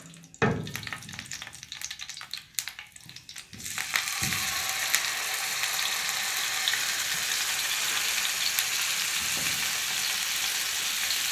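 Chicken tikka pieces laid into two to three spoons of hot oil on a tava, breaking into a loud, steady sizzle after a few clattering placements, then holding an even frying hiss with no talk.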